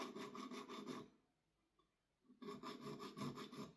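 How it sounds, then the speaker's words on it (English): Hand filing the soft edges of a zinc plated, non-stainless airsoft barrel for a VFC L403A1 (KS-1), close raspy strokes in a steady rhythm, then a pause of about a second and a half before the rasping resumes. "I'm just filing these edges ever so slightly"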